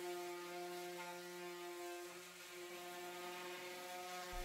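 An electric sander hums steadily while scuffing painted furniture with 220 grit sandpaper, a constant close whir with even tonal lines and no breaks, running alone.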